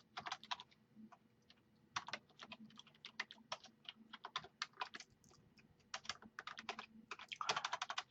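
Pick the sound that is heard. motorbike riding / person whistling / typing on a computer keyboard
typing on a computer keyboard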